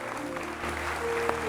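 Warm audience applause welcoming guests onto the stage of a televised Indonesian talk show, a steady clapping wash under a faint sustained musical tone.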